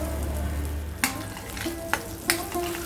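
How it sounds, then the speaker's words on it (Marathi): Tomato paste goes into onions frying in oil for a spicy pea keema, producing a low steady sizzle punctuated by three sharp spoon clicks and scrapes against the pan. "मी आता टोमॅटोची पेस्ट टाकते ह्याच्यामध्ये."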